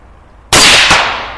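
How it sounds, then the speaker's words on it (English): A rifle shot firing Federal Spear TNT 90 grain ammunition detonates a Firebird 50 biodegradable exploding target, giving a single sharp, loud blast with a brief second crack, then a fading rumbling tail in an outdoor setting. "The explosion that you saw was from a Firebird 50 biodegradable target. It's a detonating target."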